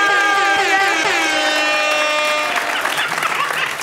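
Audience applause at a live show rises under fading sustained horn-like tones from the stage, the clapping becoming clearer and more scattered as the music drops away.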